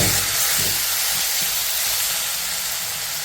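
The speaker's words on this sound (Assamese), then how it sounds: "মাংসখিনিৰ লগতে একেলগে আলুখিনিও দি দিওঁ" Chunks of chicken and raw potato frying together in a pan give a steady, close sizzle and hiss that carries on evenly throughout, with no talking.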